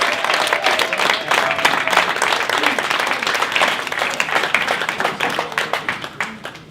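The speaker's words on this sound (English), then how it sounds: "Big round of applause" Crowd at a rugby championship season celebration gives the team a big round of applause, steady clapping that tapers off near the end.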